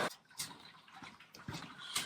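A pump recirculates wort through the malt bed during beer brewing, making faint, intermittent splashing and gurgling of liquid in short bursts.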